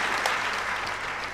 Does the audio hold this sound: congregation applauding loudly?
yes